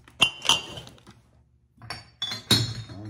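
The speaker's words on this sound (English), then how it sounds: "Another glass jug." A glass jug clinks and taps sharply a few times as it is handled while an auction lot is sorted, with quiet pauses between the bright knocks.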